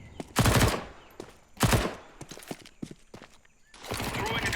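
Bursts of AK rifle fire in a tactical shooter video game, two loud rapid volleys followed by scattered single shots and a final sustained burst, fairly close.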